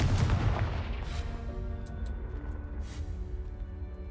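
Confringo blasting spell explosion in the game Hogwarts Legacy, a single deep booming blast that rolls and fades with a lingering rumble and a few faint crackles, no voice.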